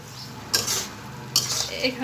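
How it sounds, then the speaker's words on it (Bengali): Pre-fried rice grains stirred in a cooking pot, with two distinct scraping swishes of a utensil against the pot over a low frying hiss. "চাউলগুলো দিয়ে সুন্দর করে একটু নাড়াচাড়া করে নেব"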